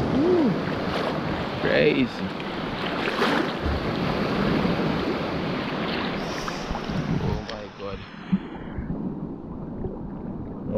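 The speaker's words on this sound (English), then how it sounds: "Ooh, waves crashing." Ocean surf at a beach in Jamaica's Portland area, a loud, continuous wash of breaking waves mixed with wind buffeting the microphone, with people talking over it.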